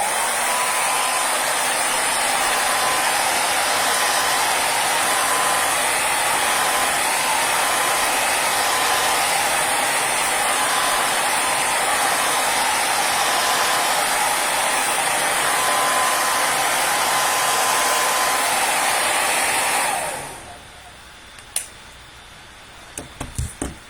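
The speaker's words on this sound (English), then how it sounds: "So, one more time with the hairdryer." A hair dryer blows steadily on an art-therapy piece, a loud continuous whir with a faint whine that runs for about twenty seconds, then cuts off, leaving quiet handling clicks.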